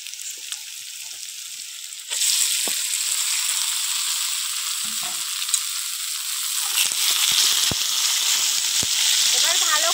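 Marinated desi chicken drops into a spice paste with chili powder on a clay stove, and a quiet sizzle jumps to a loud, continuous frying hiss that holds steady, with occasional soft stirring scrapes.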